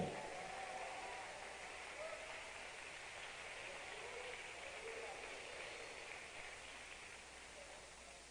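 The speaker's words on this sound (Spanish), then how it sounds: "Fuerte el aplauso al Señor." Faint, continuous applause from a church congregation, a soft hiss of many clapping hands heard at a distance, steady and low with no distinct individual claps.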